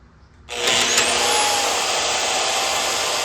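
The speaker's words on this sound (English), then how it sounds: "that seems like a pretty good job for our portaband. This hardened hole saw is probably going to be tough to cut" A portable band saw starts up after a brief quiet and cuts into a hardened hole saw, giving a loud, steady whine with a thin metallic squeal rising above it, close by.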